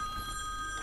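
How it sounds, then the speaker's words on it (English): A telephone rings with a steady electronic bell tone, faint and held, over a quiet background hum in a game. "Oh, great phone call."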